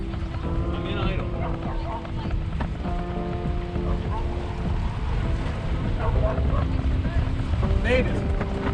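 A worn boat's engine idles with a steady, low, continuous rumble under constant wind and water noise, close to the microphone.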